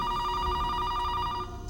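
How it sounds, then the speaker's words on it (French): A telephone rings in the 1997 film Scream 2, a steady electronic trill that holds loud and even, then cuts off near the end. "Ah, je l'ai senti, téléphone"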